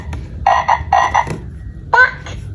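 A children's educational toy computer plays a frog croak: several electronic ribbed croaks in two paired bursts and then a final pair, loud and close, with no talking over them.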